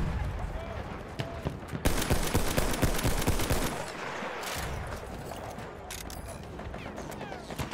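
Machine gun fire in Battlefield 1 rattles in dense rapid bursts, loud and close, with the heaviest stretch in the middle before thinning out amid battlefield noise.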